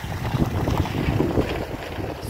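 Gusty wind buffets the microphone by the sea at Marina Bay in Tangier, a loud, continuous low rumble with uneven surges and no one speaking.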